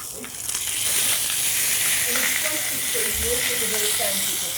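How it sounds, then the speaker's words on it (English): A prawn or lobster laid flesh side down in a hot pan gives a steady, loud hiss of sizzling that holds evenly throughout, with a few faint clicks and pops underneath. "So you want your prawn flesh side down onto the pan"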